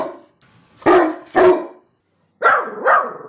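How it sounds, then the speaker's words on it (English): A dog barks four times in two close pairs, loud and near, with a short quiet gap between the pairs. "Dogs, woof, woof, woof."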